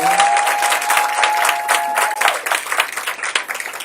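A church congregation at a Sunday service applauding, with loud, dense clapping from a crowd filling the whole stretch, some voices mixed in.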